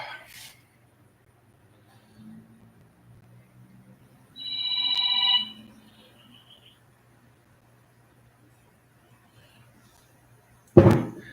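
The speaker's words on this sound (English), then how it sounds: "That was a phone call." A phone rings once in a quiet room, with a short burst of trilling electronic ring in the middle, then silence. A faint low hum runs throughout, and a sharp knock lands at the end.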